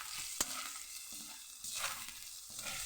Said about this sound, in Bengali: দিয়ে ভালো করে আমি এরকম নাড়িয়ে নেব